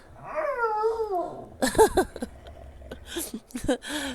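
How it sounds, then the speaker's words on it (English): Boo Boo, a very vocal pet dog, lets out a long, wavering, whining howl, then a run of shorter, close yips and grumbling vocal bursts. "That would be my dog Boo Boo."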